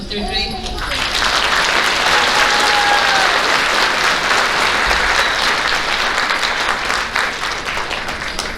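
Sustained applause from a large audience at an elementary school awards ceremony, loud and even, swelling quickly at the start and continuing without pause.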